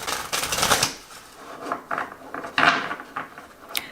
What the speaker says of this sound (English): So I find when I shuffle them, I can't shuffle them the usual way because my hands are too small for the length of the cards